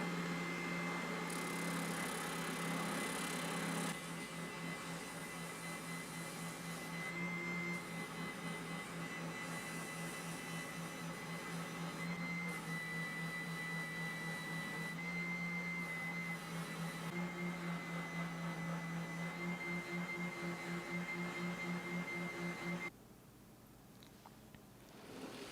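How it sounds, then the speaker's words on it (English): A spindle sander working the edges of a ziricote and black limba seven-string guitar body, a steady close motor whine with grinding as the wood is pressed, then the hum drops off near the end. "back to the spindle sander to work out the edges of the body"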